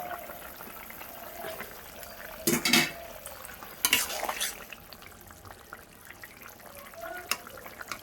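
A Bengali fish curry with potato, bottle gourd and drumstick simmers in a pot, giving a soft, steady bubble, broken by two brief, louder clattering bursts as the pot is handled.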